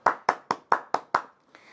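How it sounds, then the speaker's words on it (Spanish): Hands clapping at a small literary gathering, six sharp, evenly spaced claps from a single nearby person, with no other voices or applause. "yo quiero darle un aplauso"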